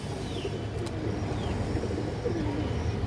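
Pigeons of a fancy loft breed coo softly amid a low hum of background noise, a few murmured calls from a flock kept in a coop.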